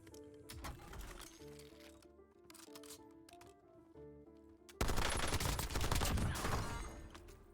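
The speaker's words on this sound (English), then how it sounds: "I'm getting shot from underneath the bridge" Bursts of automatic gunfire in the battle royale video game Warzone, rapid rattling volleys near and loud, with a heavier sustained barrage of shots near the end and game sound effects between bursts.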